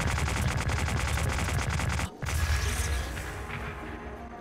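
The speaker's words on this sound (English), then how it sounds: "A remote bomb does 30 damage to a shield." Remote bombs strike a Royal Guard's shield in Breath of the Wild in a rapid, rattling string of loud blasts, a brief gap, then another burst trailing into a ringing tone.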